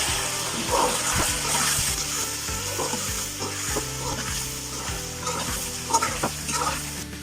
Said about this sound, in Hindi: अब थोड़ी देर चिकन को इसके साथ भूनेंगे